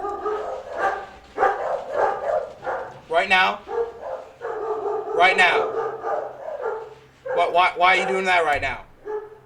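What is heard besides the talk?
dog barking indoors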